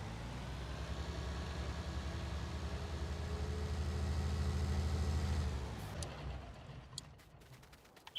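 A Claas Atles 900RZ tractor in Farming Simulator 19 idles with a steady low diesel rumble that fades after several seconds, leaving scattered faint clicks.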